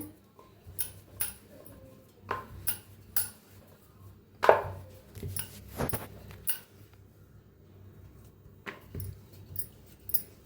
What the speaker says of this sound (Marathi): गोळं बनवून घेतले ते थोडंसं पिठात बुडवायचं लाटून घेऊया